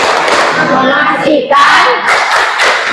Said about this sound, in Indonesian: Ulangi sekali lagi. Tepuk IPS.